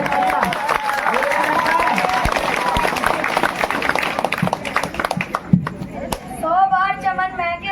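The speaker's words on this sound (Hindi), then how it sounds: "तो अमन के लिए तालियां, जोरदार तालियां।" Sustained crowd applause at a Bhim Jayanti festival stage event in April 2025, filling most of the clip with dense clapping under a speaker's amplified voice before thinning out near the end as speech carries on.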